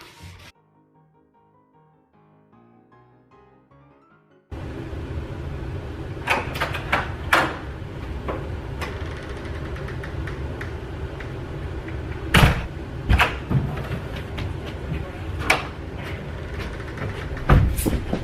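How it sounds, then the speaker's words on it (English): After a quiet, faintly musical stretch, a door opens into a busy, noisy space, bringing a steady crowd-like rumble with repeated knocks and clatters. "This door is about to open."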